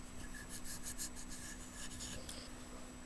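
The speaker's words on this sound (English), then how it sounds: "I will do the smoothing process over the entire doll." Steady dry rasping and rubbing from the smoothing of a ceramic greenware doll, continuous and fairly close, with no talking.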